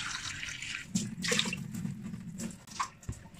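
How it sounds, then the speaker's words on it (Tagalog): Water pours into a rice cooker pot of rice in a short, splashing stream, close by, with a few clinks of the container and no voices. "Lalagyan ko na lang ng tubig."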